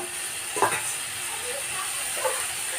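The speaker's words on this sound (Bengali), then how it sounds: "আমি লবণ আর হলুদ দিয়ে ঢেকে আলুগুলো আমি লাল লাল করে ভেজে নেব" Potatoes frying in a pan with salt and turmeric, a quiet steady sizzle with a couple of brief stirring scrapes, close and low.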